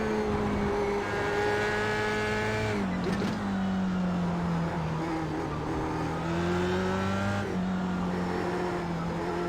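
Engine of an F3 race car at Interlagos in the iRacing sim, droning loud and steady with rising harmonic sweeps as it accelerates, dipping briefly before climbing again, with no talk over it.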